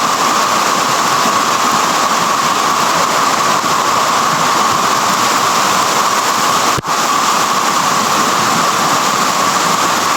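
Heavy rain pours down in a steady, loud, unbroken roar lasting about ten seconds, dense and uniform throughout with no voices over it.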